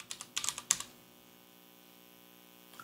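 A computer keyboard is tapped in a short run of about eight quick, close keystrokes lasting under a second, then falls to a quiet electronic hum.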